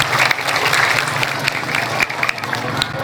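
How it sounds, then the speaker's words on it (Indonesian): An audience applauds after a teen group's Indian drama and song cover performance, with steady, moderately loud crowd clapping throughout and a brief dip near the middle. "Penonton, tepuk tangan dong."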